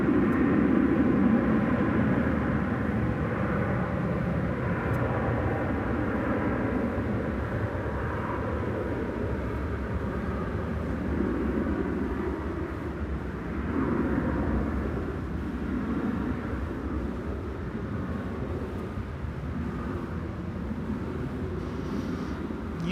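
A jet airliner on its flight to Sacramento rumbles at DFW Airport, a steady low engine roar lasting throughout at moderate distance, with no voices.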